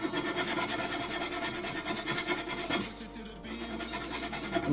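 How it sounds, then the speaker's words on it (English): A hand file rasps back and forth across the corners of an airsoft AEG gearbox, a steady rhythmic scraping of about three strokes per second, briefly pausing before resuming, close and fairly quiet. "grab a file, and then with this file I'm going to what they call radius the gearbox"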